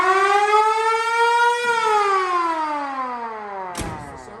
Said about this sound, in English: the sound of a federal siren.